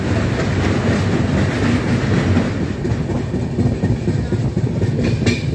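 A train crossing the Teesta river bridge: a loud, close, continuous rumble with a rapid clickety-clack of wheels over the rails and no voices.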